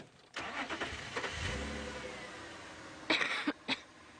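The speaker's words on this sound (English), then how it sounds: "Just let the engine run for a second." A safari vehicle engine idles at low volume in the bush near elephants, a steady rumble with a couple of brief louder bursts toward the end.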